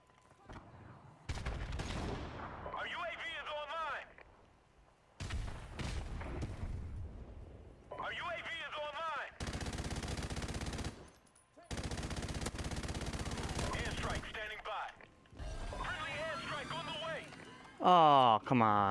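Minigun fire in Modern Warfare Remastered comes in long, dense roaring bursts amid other gunfire and game effects, with a player talking between and over the shooting.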